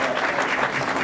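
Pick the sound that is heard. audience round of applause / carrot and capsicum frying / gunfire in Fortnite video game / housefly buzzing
audience round of applause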